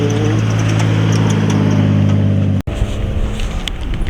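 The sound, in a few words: car engine at a drifting motorsports event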